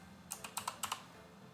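Quick keystrokes tap on a computer keyboard: about seven light, close clicks in two short bursts, alone in a quiet room.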